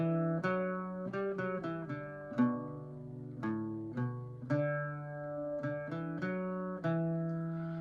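An Irish bouzouki plays the basic melody of the tune Jack Hall, a clean sequence of plucked, ringing metallic notes with bright attacks and sustained decays, played alone at moderate volume.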